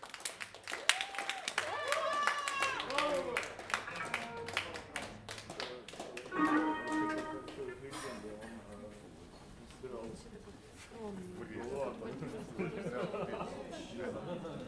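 Audience applause after a jazz concert, with dense clapping throughout the clip and scattered voices and cheers mixed in.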